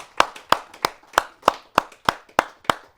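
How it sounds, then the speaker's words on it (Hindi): Crisp, evenly spaced hand claps from the audience at a Hindi poetry and humour gathering, about ten sharp claps in a steady rhythm, close and distinct, with no talking. "तालियां।"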